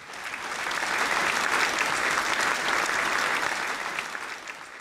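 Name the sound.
applause sound effect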